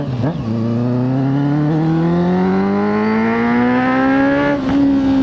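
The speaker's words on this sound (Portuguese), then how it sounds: "tá roncando, hein, velho, essa moto" A Honda CB650F motorcycle with a full 4-into-1 exhaust revs up close, its engine note climbing steadily in pitch over several seconds after a brief blip at the start, loud and alone.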